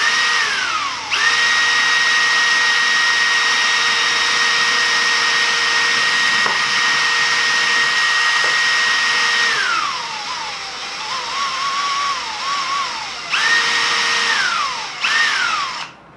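A power drill boring a hole in the upper of a Taurus T4 pistol: a loud, steady high whine that holds for several seconds, sags as the bit bites, then revs again in short bursts.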